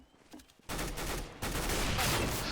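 Bursts of Counter-Strike: Global Offensive gunfire, a quiet start followed by loud, sustained rapid shots in two clusters, dense and crackling.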